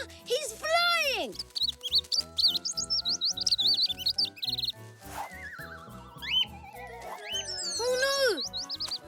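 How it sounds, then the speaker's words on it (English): Cartoon baby bird chirping in high, rapid bursts while flapping to learn to fly, mixed with lively background music and children's cartoon voices talking nearby. "Pock, you saved the baby bird."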